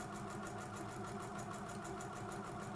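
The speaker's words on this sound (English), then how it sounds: "So then we keep sewing." Domestic sewing machine stitching fabric for a child's dress, a steady continuous motor whir with rapid rhythmic needle pulsing, fairly quiet and close, no talking.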